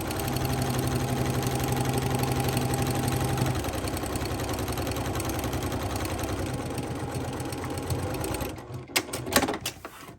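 A sewing machine stitches a seam between fabric pieces in a steady, fast mechanical whir that runs for about eight seconds, then gives way to a few sharp clicks and handling knocks near the end.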